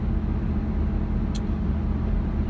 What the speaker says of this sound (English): On my way to work, and for some reason there's a lot of traffic.